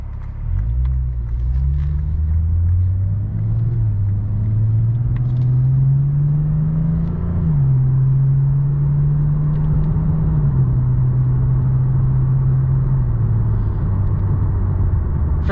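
A 2015 Lexus RC350 F Sport with a 3.5-liter V6 drives along with a steady, loud engine drone that rises and settles as it shifts, with road rumble underneath throughout.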